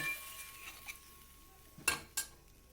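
A metal lid goes onto a cooking pot of simmering potatoes with two sharp, close clanks about a quarter second apart. Quieter kitchen clinks and a faint steady hum sit around them.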